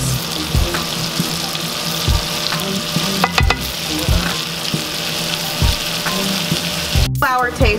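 Butter and flour roux sizzling and frying in a small pot for homemade enchilada sauce, a steady crackle with a few sharp clinks of a utensil against the pot.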